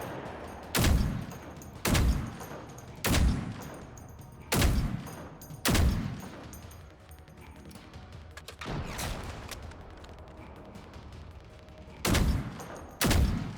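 Heavy gunfire from the video game Generation Zero, arriving as loud, spaced bursts of shots about once a second with short pauses between them, then a quieter stretch before two more sharp bursts near the end.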